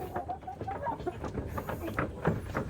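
Hill chickens on a farm clucking softly while pecking at feed, a quiet, steady patter of short clucks with no talking.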